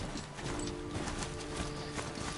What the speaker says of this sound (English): I like the way she jumped on this mechanical horse.